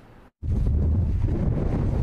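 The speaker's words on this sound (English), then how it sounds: "we still just registered a wind gust almost 20 miles an hour" Wind gusts of almost 20 miles an hour in Central Ohio buffet the microphone in a loud rumbling roar after a brief moment of near silence.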